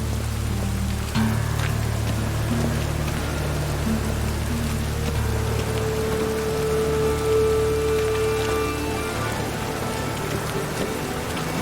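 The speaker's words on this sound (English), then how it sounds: "It just rains and rains." Steady rain falls and patters continuously on surfaces, a constant even hiss with faint low hum beneath it and no talking.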